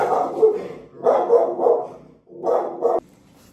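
A dog barks in a series of close, loud bursts, one then two grouped, then another pair, ending abruptly with no talking heard.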